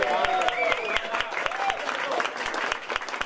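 Concert audience applause for a percussionist, a busy wash of clapping and crowd noise with tonal voices and calls rising through it, sharp regular percussive hits punctuating the sound, moderately loud throughout.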